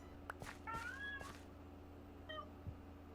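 A cat meows several times in short harmonic calls, close and clear, during a Minecraft TerraFirmaPunk modded game session, with a steady low background hum and no talk.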